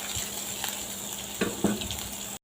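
Tomatoes fry in a pan with a steady, close sizzle, broken by a few sharper crackles and pops near the end, heard alone with no talking.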